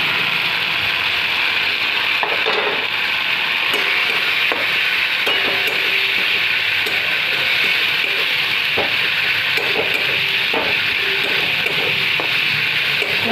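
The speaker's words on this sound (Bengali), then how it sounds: "এবার মশলাটা একটু কষা কষা হয়ে যাক, তেল ছেড়ে দে" Spices fry and get stirred in oil for a jackfruit curry, with turmeric, sugar and a potato-curry spice mix; a loud, steady sizzle carries irregular scraping clicks from the spatula, close up with no speech.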